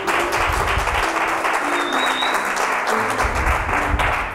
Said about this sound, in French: On acclame quand même pour la lecture.